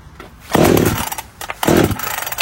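A Scheppach CSP2540 petrol pole pruner chainsaw sputters as its small two-stroke engine tries to start, two loud bursts of raspy running with a brief lull between them.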